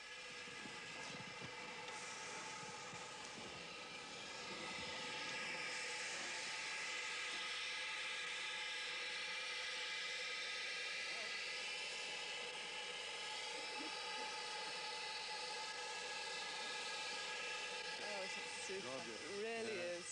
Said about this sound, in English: Colin Umpleby, it was the moment of truth as he opened the regulator to bring Samparai to life.